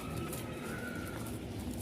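A pigeon coos softly in a loft, a low throaty call repeated over under two seconds against quiet background hum.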